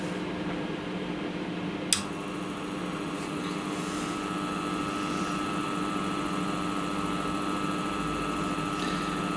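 A benchtop jewellery polishing and buffing machine running at its minimum speed of about 821 RPM gives a steady, even motor hum and whine, with a brief click near the start, continuous and fairly loud with no talk.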